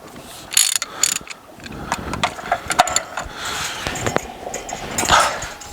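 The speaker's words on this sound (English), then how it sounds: "Using 1 11/16 deep well socket, we are taking out the anode rod." A ratchet on a 1 11/16 deep well socket clicks in uneven bursts while loosening a water heater anode rod, close and metallic, with a few louder clanks among the clicks.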